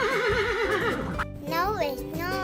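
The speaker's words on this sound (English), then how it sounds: "It is a horse." A horse gives a loud, wavering neigh up close, followed by a person speaking and further higher whinny-like sounds.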